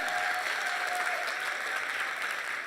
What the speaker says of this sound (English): Can y'all give another hand clap for Dr.